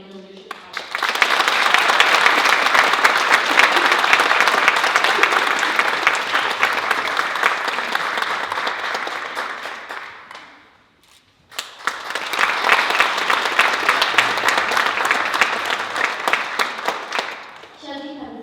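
Audience applause at a Kittitas County youth awards ceremony for a Leadership Award nominee: full, sustained clapping from a crowd that fades out briefly, then swells up again and continues.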